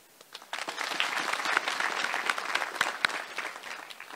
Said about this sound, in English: Let me ask this team again to extend a round of applause to General Njiru and his family